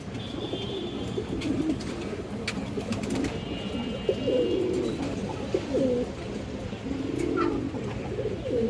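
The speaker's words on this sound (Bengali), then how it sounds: "একজোড়া লাল চুল্লি কবুতর আছে" A pair of red chulli pigeons coo near the microphone in repeated low, throaty phrases, with brief faint chirps and rustles in between.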